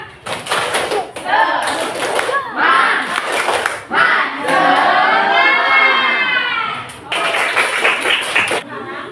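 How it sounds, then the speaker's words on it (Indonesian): A classroom of children doing a rhythmic spirit clap chant, bursts of shouted chanting and claps in short repeated phrases with pauses between, loud and close, with a long sustained vocal passage in the middle. "Tepuk semangat."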